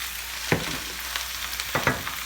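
Kale and grape tomatoes sauté in olive oil in a pan, a steady soft sizzle broken by a few sharp scraping stirs and knocks against the pan, close and alone with no talk.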